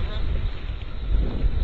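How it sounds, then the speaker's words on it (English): Blizzard wind gusting through Halifax, Nova Scotia, roaring as a loud, steady rumble against the microphone, with a voice faintly mixed in. "The storm isn't over yet."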